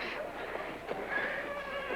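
The rodeo bareback bronc Storm Wind whinnies and snorts amid hoof movement, a horse close by in a noisy arena, with a voice faintly present.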